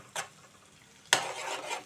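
Gooseberries and green chillies stir-fried in a pan over low heat, with a spoon scraping the pan once and then a burst of stirring and rustling that fades into a soft sizzle.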